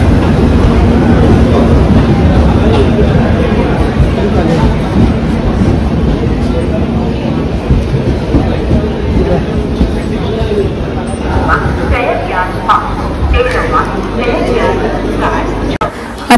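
A train rumbles steadily past a busy railway station platform, loud and close for the whole stretch, with constant crowd chatter and voices mixed in.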